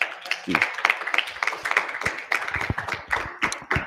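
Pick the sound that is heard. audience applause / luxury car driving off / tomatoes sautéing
audience applause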